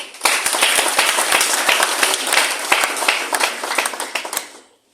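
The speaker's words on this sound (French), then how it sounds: "qu'on acclame le ministre de la Défense, Téné Ibrahim" An audience applauding the Minister of Defence, Téné Ibrahim, a dense burst of many hands clapping, loud and sustained for several seconds before fading out.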